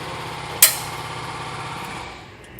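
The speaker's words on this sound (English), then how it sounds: "I'm going to use a center punch right here to make sure that we stay lined up" A single sharp metallic tap of a center punch on a steel leaf spring during a suspension kit install, followed by a ringing decay over low background hum.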